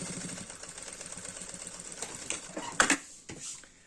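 A sewing machine runs a straight stitch along a zipper seam on a small boxy fabric cosmetic bag, a steady rapid needle chatter that slows and breaks into a few clunks and stops near the end.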